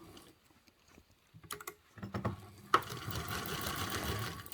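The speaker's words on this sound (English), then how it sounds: "Okay, so we are just basting this down." A sewing machine bastes a seam with a 1/8 inch allowance on a large foldable tote bag, starting with a few short stitching bursts and clicks, then running in a steady, close whir for the last couple of seconds.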